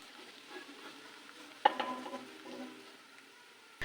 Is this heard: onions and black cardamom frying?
yes